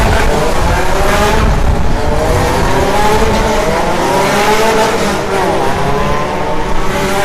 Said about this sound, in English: walk around the bike while the race cars separate out a little bit and the noise comes down a little bit.